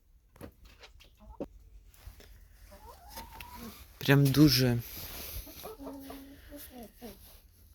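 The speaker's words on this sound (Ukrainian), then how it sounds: "Кури гуляють тут." Chickens clucking nearby outdoors, a burst of loud squawking in the middle, with quiet talking partway through.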